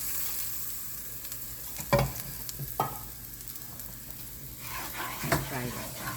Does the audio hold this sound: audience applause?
no